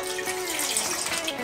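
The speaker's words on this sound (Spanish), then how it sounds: "Le vamos a agregar agua." Tap water runs steadily into a cooking pot of plantains in a home kitchen, a continuous close splashing pour with no talk.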